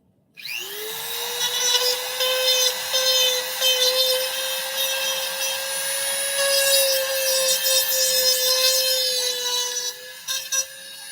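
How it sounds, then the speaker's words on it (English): A Dremel rotary tool carves into plastic. It spins up quickly into a loud, steady high-pitched whine that holds for about ten seconds, then cuts off abruptly, with small scraping variations as the bit bites the material. "when you use the Dremel on it, you're sort of melting the plastic a little bit"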